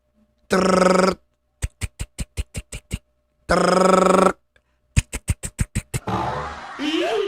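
An old-style telephone bell rings in two loud, close bursts, each a sustained ring followed by a rapid series of short clattering rings, before a voice briefly cuts in at the end.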